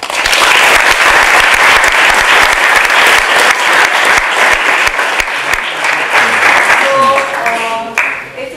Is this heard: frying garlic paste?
no